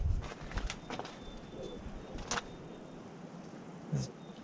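Pigeons cooing from inside a cabin coop on a windy day, a few soft, low, muffled coos close by, with faint shuffling and outdoor rustle around them.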